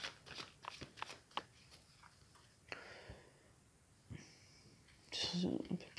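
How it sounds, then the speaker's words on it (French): Tarot cards being shuffled and cut by hand, giving a run of brisk papery riffles and soft flicks with brief pauses between them, close and fairly quiet, with a louder rustle near the end. "je vais couper les cartes, voir ce qui se passe"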